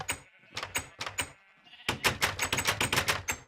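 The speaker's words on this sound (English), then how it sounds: "you can hear my sheep as well as my voice" Sheep in the Minecraft video game bleat in a quick run of short, bright calls, with a brief pause and then a denser burst of repeated bleats, close and fairly loud, with no talking.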